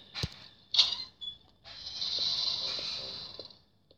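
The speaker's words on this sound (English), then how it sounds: "That door just shut on me." A creaky door in the horror video game Slendrina: The School swings shut with a few sharp squeaks, then a long drawn-out groaning creak. It sounds close and fairly loud against a quiet, dark background.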